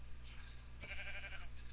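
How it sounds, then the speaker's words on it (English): A sheep bleating in Minecraft: one faint, brief wavering bleat over a quiet, steady background hum. "Sheep!"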